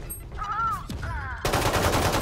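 A burst of rapid video game gunfire breaks out partway through, loud and dense, following brief talk from a couple of voices.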